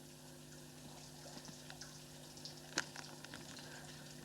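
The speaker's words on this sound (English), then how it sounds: "you're making a waterfall" Water trickling and splashing down a rock gorge at Yeo Chasm, set flowing like a small waterfall, a faint steady wash with occasional sharper splashes and clatters, one louder knock near the middle, over a low constant hum.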